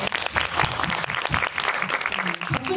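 An audience applauds at a film screening with a director and cast Q&A for the film 여름이 지나가면, a lively, continuous round of clapping from many people with voices mixed in underneath.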